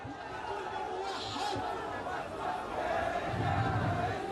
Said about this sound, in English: The crowd looks somewhat skeptical when suddenly unrest breaks out.